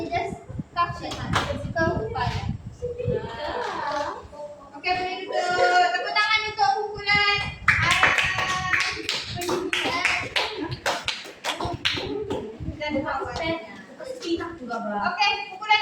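Classroom clapping from a group of pupils, scattered and uneven, mixed with children's voices and a teacher talking over it.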